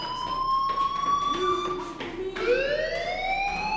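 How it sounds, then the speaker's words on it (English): A school fire alarm in the game Life is Strange rings as a loud, steady electronic siren tone, close and continuous, with a short voice coming in under it. "Hey, do you hear that fire alarm?"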